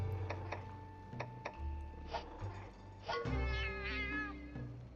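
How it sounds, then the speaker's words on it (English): A cat character in the video game Monster Hunter Stories, with short meows and a low rumbling purr heard quietly in the background, alongside light ticking game sounds. "you can hear the sound of the cat purring in the background."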